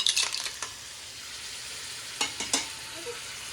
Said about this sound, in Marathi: आणि तिसऱ्यानं छान असं आपण त्या कांद्यामध्ये मिसळून घ्यायचं